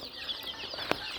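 Young Brahma and local desi chickens, 10 to 25 days old, give soft, brief clucks and chirps at close range over a steady outdoor hiss, with one sharper peep near the end.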